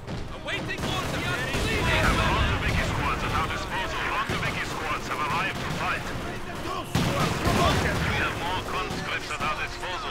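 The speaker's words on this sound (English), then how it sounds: "Those mortars are a big pain in the ass" Mortar and gunfire in the video game Company of Heroes 2 during a winter defense battle, with dense, continuous booms and crackling shots and voices talking throughout.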